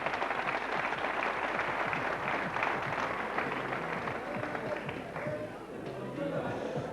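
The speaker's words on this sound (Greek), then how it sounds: "Θερμότατο χειροκρότημα." Warm studio audience applause on a 1992 Greek game show, sustained dense clapping throughout, loud and steady, with some crowd noise mixed in.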